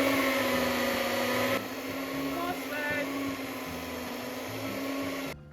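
An electric mixer running steadily, beating an egg into creamed sticky toffee pudding batter, a loud continuous motor whine that shifts pitch slightly midway and then cuts off.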